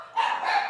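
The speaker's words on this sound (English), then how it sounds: "here come the barking dogs." Dogs bark at a house, a short burst of higher-pitched yelping that starts abruptly and holds loudly for under a second, with no talk over it.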